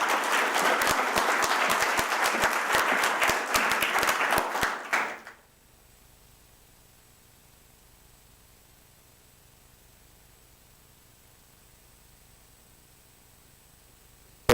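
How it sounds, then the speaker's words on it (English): Loud, dense applause from a conference audience at an African investment gathering, lasting about five seconds before cutting to near silence with only faint background hiss. "Let's give him a warm round of applause."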